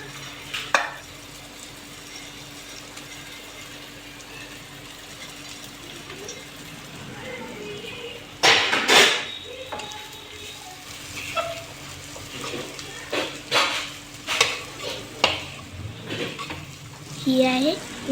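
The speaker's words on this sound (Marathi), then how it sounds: "उसळ फोडणी घालत आहे." Usal being tempered with a phodni in hot oil in a home kitchen during a birthday gathering, a low background sizzle broken by sharp bursts of spluttering and clinks of utensils, with voices murmuring in the room.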